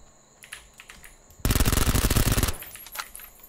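A burst of rapid automatic gunfire in PUBG lasts about a second, loud and close, with faint clicks and distant activity before and after it.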